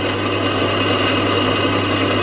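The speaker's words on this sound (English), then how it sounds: "So if it stops or grabs, I can actually stall the drill." A belt-driven drill bores out a broken bolt with a steady, loud grinding whine that holds unbroken and close throughout, with no talking.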